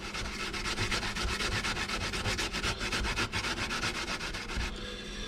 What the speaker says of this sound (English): the more time you spend grating small pieces of